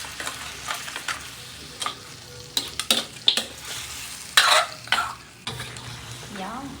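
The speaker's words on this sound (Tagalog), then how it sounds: "lalagay na natin yung pinakuloang pata. Yan, gisa-gisa muna natin sa gulay." Boiled pork hock being sautéed with vegetables in a pan for kare kare, with scattered sizzling bursts and stirring scrapes, some louder clatters midway, and a cough or throat clearing in the background.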